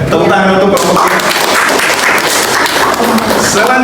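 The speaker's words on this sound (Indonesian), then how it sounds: "Tepuk tangan untuk kelompok ini" A classroom of students gives loud, close applause for a student group during a teaching session, brisk clapping from many hands sustained throughout, with a voice briefly heard at the start.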